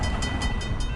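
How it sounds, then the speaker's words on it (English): A Tropicana juice freight train rolls past near the plant in Bradenton, a loud close rumble with rapid regular clicks of wheels over rail joints. "the juice train can be spotted coming and going from the Tropicana plant in Bradenton"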